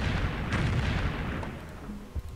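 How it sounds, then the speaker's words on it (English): Heavy artillery bombardment in the Civilization III video game, a dense, loud rumbling roar of booming shell fire that fades toward the end, followed by a couple of sharp pops. "I need more heavy artillery."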